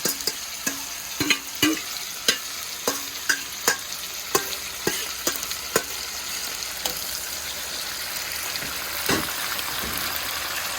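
Fish frying in very hot oil while a utensil stirs it, with a constant sizzle under repeated sharp scrapes and taps in a quick, uneven rhythm that fade toward the end.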